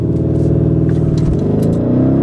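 Lamborghini Urus launching hard under launch control, a loud, steady engine roar climbing in pitch through the run, heard close from inside the car.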